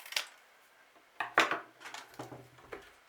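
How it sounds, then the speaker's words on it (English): Scissors rattle and clatter in a few short, uneven bursts, close by, with quiet gaps between them. "Scissors are starting to rattle now. Everything's rattling."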